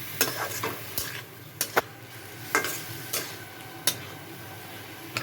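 Papaya curry being sautéed in a pan, with a steady low sizzle and sharp, irregular scrapes and knocks of a spatula against the metal every half second or so, close and clear with no talking.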